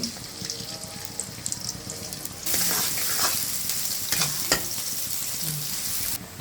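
Chopped onions frying in hot oil in a wok, a steady close sizzle that swells suddenly partway through, with scattered stirring clinks over a constant hiss.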